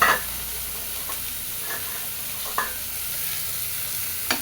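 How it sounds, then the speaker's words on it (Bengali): Green chilies and cut bitter gourd frying in hot oil in a home kitchen, a steady soft sizzle with a few brief clinks and stirring taps, close and alone without talk. "এবার আমি এই তেলে কাঁচামরিচ দিলাম এবং কেটে ধুয়ে রাখা উচ্ছেগুলো"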